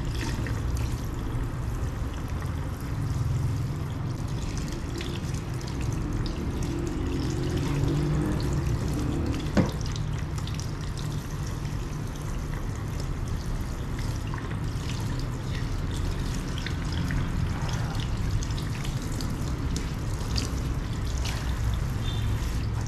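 Warm water pours and trickles steadily during a hair wash at a full-service barbershop in Ho Chi Minh City, Vietnam, a continuous close wash of liquid that runs for over twenty seconds with no talking.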